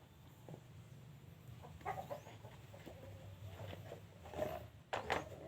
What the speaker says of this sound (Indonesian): ayam yang ngorok.